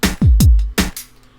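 A slow jam drum beat made in Ultrabeat plays at 160 BPM: booming kicks with sharp snare-like hits, a few strikes in quick rhythm before it stops.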